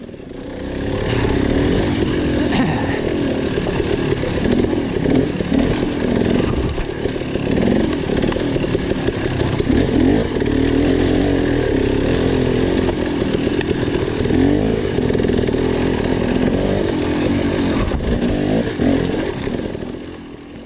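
A dirt bike engine revs hard and continuously up close while riding enduro single track along a ridge during an extreme hard enduro race, the buzzing motor rising and falling with throttle for the whole stretch.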